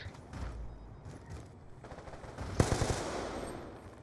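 Gunfire in the multiplayer shooter Call of Duty Black Ops 2: low-level distant shooting under game ambience early on, then a louder, sharper burst of several rapid shots near the end, trailing off into faint noise.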